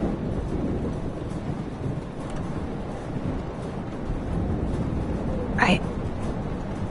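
A thunderstorm in Life is Strange rumbles low and continuously, with rain and wind noise throughout and a brief sharper crackle near the end.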